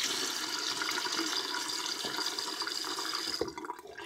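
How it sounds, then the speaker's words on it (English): Tap water runs steadily into a bathroom sink while someone washes their face, a close, continuous splashing rush that cuts off near the end. "I like to get my face wet."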